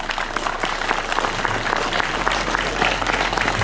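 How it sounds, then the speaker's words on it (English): Audience applause for a newly announced head boy and head girl at a school investiture ceremony, a steady dense wash of clapping that stays loud and even throughout with no voices over it. "Let's give them a big round of applause."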